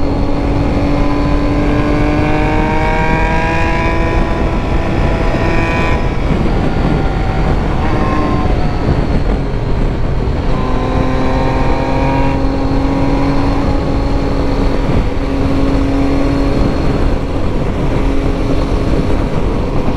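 A Triumph Tiger motorcycle's engine revs up and shifts repeatedly, its pitch climbing in long sweeps, loud and close throughout as it accelerates through gears.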